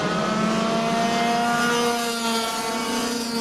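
Racing karts in a Clubman Light and Heavy class race lap Lithgow City Raceway, their engines a steady, loud, high-pitched drone that holds without a break and dips slightly near the end.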